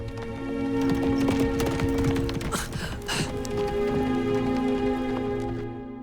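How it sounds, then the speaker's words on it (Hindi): Horse hooves clip-clop steadily across the scene of a Chinese period action film, a busy clattering rhythm, loud and close, over a rain-like wash of noise with a faint whinny. "जल्दी घोड़ा लाओ।"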